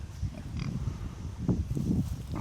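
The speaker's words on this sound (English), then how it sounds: "These are our red wattle boiling pigs" Red Wattle pigs grunt close by in a low, irregular run of snorts and oinks, louder bursts midway, with no talk over them.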